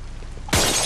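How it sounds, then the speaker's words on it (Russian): Glass window shattering in the video game Contagion, a sudden loud crash after a quiet lead-in, with a second burst of breaking glass at the very end. "Обойму выпустил, окно разбить."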